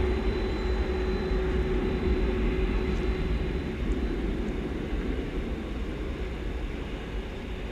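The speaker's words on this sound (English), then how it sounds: "that is definitely making all the noise that the Frontier A321neo green plane did not." Loud, steady jet aircraft roar at DFW Airport at night, a broad continuous rumble that holds for the whole stretch and eases slightly toward the end, with no voices over it.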